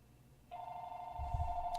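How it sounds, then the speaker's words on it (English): Incoming-call ringtone from a telephone, starting abruptly partway in and holding a steady electronic tone, near and clear, over a low background rumble. "I have a phone call coming through."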